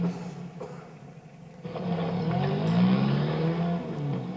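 A car races in a chase in an old Superman cartoon, its engine rising from a quieter start into a sustained revving growl that swells and holds, loud and near, with no voices.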